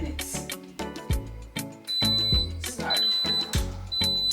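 Electronic beeps sound at regular intervals over a thumping musical background, steady and fairly loud, as an Instant Pot pressure cooker timer is set for cooking cow foot.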